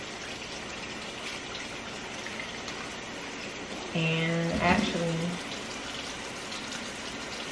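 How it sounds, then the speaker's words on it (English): Cold tap water runs steadily over frozen shrimp in a kitchen, a constant rushing hiss throughout, with a person speaking briefly over it. "So I'm just running cold water over it."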